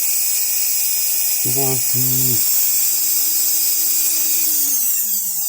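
A rotary tool fitted with a cutting disc spins against a Hot Wheels die-cast car, holding a steady high whine while a voice briefly cuts in; the tone then drops as the tool winds down.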